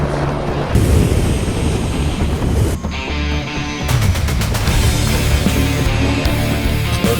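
A helicopter arrives, its dense rotor chop and engine roar close and loud throughout, with a sharp shift in tone partway through as the machine nears.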